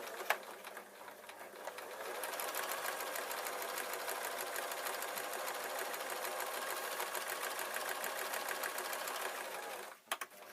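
Sewing machine stitching a pocket on a camera bag, running at an even fast chatter for about eight seconds after a hesitant start, then halting; close and fairly quiet.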